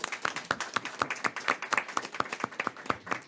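A small group at a school board meeting claps for a teacher's award, with a handful of distinct, fairly close hand claps in quick uneven rhythm throughout.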